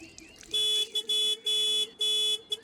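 A loud electronic alarm-like horn sounds in repeated bursts, four long blasts with short gaps, bright and piercing with no voices.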